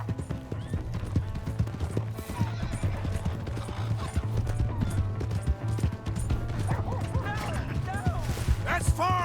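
Hooves clip-clop in a brisk galloping rhythm in the video game Red Dead Redemption 2, with a horse neighing and whinnying, under shouting voices and a steady low hum.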